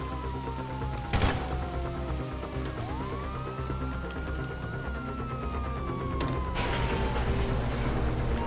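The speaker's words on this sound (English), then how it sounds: "Sirens! Fuck the cops!" Police sirens in Grand Theft Auto 5 wail in a steady rising and falling sweep across the whole stretch, fairly loud against game noise, with a couple of sharp bangs near the start and later.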